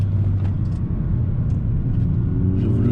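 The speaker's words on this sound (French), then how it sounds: "On va accélérer assez fortement sans tenir le volant" An Opel Astra OPC 180 hp accelerating hard from a standstill, heard as a close, steady low engine rumble with a rising drone under road noise.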